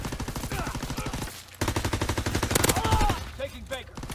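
Rapid gunfire from a shooter video game, with repeated bursts of shots close and loud over a busy mix of game sounds and voices, broken by a short lull before the firing resumes.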